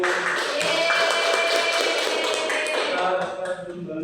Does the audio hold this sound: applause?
yes